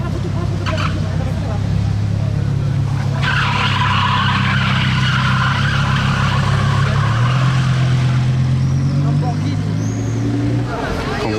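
A Lamborghini Huracán STO pulls away from a hotel, its engine a steady low roar with rising gear notes and tire noise, somewhat distant beneath street bustle and nearby voices.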